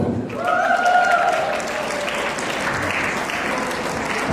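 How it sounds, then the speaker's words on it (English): An audience at a women's council event for International Women's Day 2020 breaks into steady applause, a dense wash of clapping that holds throughout, with a brief voice or cheer rising early on. "A big round of applause for Surjit Sandhu."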